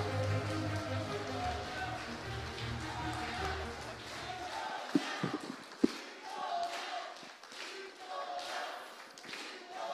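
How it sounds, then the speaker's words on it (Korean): A large crowd at a political party lecture event applauds and cheers in a continuous wash of clapping, following a low droning sound, with a few sharp knocks mid-way. "큰 박수를 부탁드립니다."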